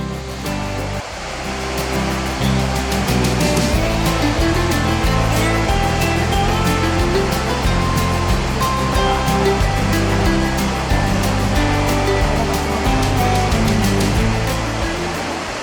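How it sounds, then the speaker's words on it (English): Sarika Falls in Nakhon Nayok, Thailand, roars as a loud, steady, broadband rush of falling water that fills the whole scene without pause, with no voices over it. "behind me lies Sarika Falls of Nakhon Nayok Park"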